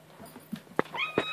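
A short, faint meow rises near the end of a quiet moment, preceded by a few soft taps and shuffles.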